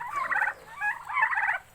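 Live turkeys gobbling on a farm, two distinct rapid gobble bursts with a shorter call between, fairly close and clear against a quiet background.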